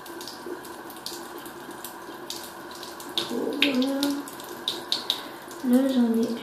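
Lukewarm water runs from a tap into a container, a steady trickle with louder gushing bursts, close by, while someone speaks in French in the background.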